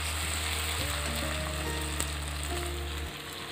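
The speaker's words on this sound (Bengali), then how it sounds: "মশলাটা একটুখানি কষে নিচ্ছি।" Masala with ginger garlic paste sizzles steadily in oil while being cooked down for a country chicken curry with potatoes, a close, continuous frying hiss with a low hum beneath and occasional soft scraping.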